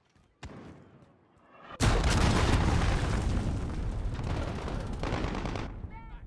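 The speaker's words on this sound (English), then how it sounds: "Enemy cruise missile incoming!" A heavy cruise missile explosion in a video game erupts as a sudden loud, deep boom, then rumbles on for several seconds as a dense roar before tapering off. A faint earlier thump comes before the blast.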